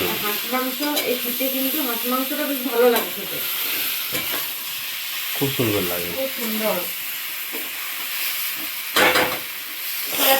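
Young jackfruit and spices frying in a pan, a steady sizzle with stirring scrapes under a woman's speech that comes and goes.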